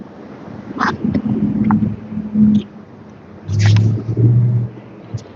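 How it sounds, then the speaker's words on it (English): Heavy trucks roll past on a city street in Thailand, two loud swelling passes of deep engine rumble and hiss, the second lingering before fading. "It sucks when these big trucks go through sometimes because they make a lot of noise"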